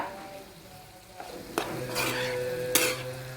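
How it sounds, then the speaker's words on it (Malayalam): Onions stirred with turmeric powder in a pan, a soft sizzle running under scraping clatters of a spoon against metal, with a few sharper knocks, close and fairly quiet. "എന്നിട്ട് ഇതൊന്ന് ഇളക്കി യോജിപ്പിക്കുക"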